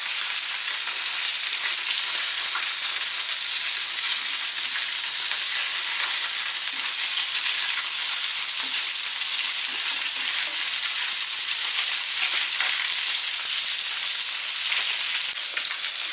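Carp fries in a pan with a loud, continuous crackling sizzle that holds steady for the whole stretch, close and uninterrupted, with no voices.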